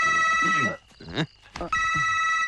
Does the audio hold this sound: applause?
no